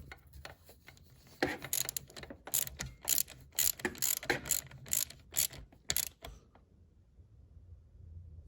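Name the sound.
ratchet tightening a nut on Cadillac CTS brake booster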